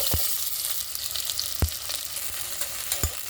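Four long-sliced onions frying in hot spiced oil for prawn biryani in a pressure cooker: a close, steady sizzle with sharp spatula knocks and stirring scrapes at irregular moments, no voices.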